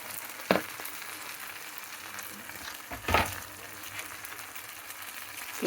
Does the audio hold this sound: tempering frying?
yes